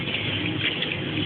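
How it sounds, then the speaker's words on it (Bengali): Cumin seeds are washed under running water, which makes a steady close rushing splash with no pauses and no talk. "জিরা ধুয়ে দাও"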